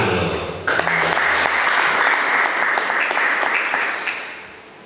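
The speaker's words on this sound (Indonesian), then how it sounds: "Tepuk tangan dulu." Students at a school orientation session break into applause, a dense, steady wash of clapping that rises sharply and sustains for several seconds before fading out.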